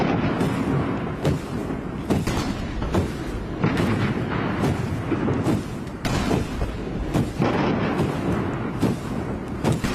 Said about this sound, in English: Those cannons sound badass.